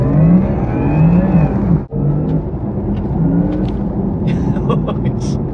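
A Porsche Taycan GTS electric car pulls away hard, giving a rising electric-motor whine and road rumble. A brief drop in the sound comes early on, then the whine continues strongly while a person talks over it.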